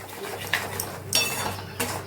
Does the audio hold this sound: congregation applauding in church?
no